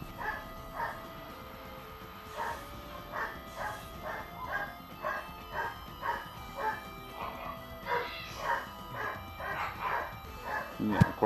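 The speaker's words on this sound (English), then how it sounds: "now the dog's barking" A dog barks repeatedly in a steady rhythm of short yips and bow-wows, moderately near and fairly loud, with no clear talk over it.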